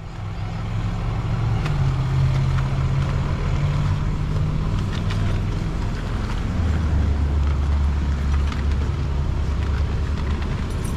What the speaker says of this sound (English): Savvy, move the truck over there.